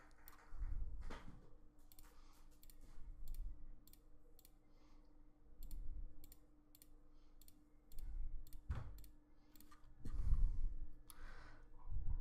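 Computer mouse clicking during Photoshop work, sharp isolated clicks repeating at irregular intervals over soft low thumps and faint room noise, close and fairly quiet.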